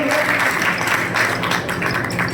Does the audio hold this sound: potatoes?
no